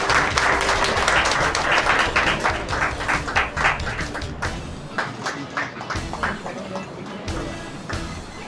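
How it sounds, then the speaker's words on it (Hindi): Audience applause at a women's empowerment event held by a daughters' foundation, a dense wash of many hands clapping that thins into scattered claps toward the end, with a voice talking beneath. "जोरदार तालियां"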